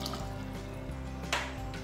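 Liquid being poured into a pressure cooker in a home kitchen, vinegar, water and salt going in, a soft, continuous trickling and splashing with a brief brighter splash near the end, no talking.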